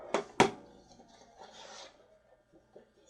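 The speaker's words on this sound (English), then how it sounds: "fold and burnish our score lines exactly like we were doing it before" Paper card stock being folded and burnished along score lines for a candy box easel card, two sharp rasping strokes early on, then softer quiet rubbing, close and alone.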